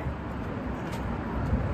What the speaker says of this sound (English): Main roads are noisy because traffic and stuff.